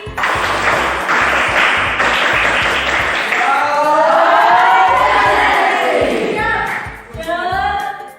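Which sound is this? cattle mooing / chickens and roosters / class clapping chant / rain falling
class clapping chant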